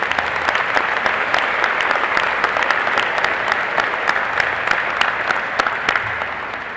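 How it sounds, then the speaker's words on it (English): Sustained applause from a large crowd at a university undergraduate commencement ceremony, steady dense clapping throughout with a slight fade at the end, no talking over it. "Let's give President Rabinowitz a huge round of applause."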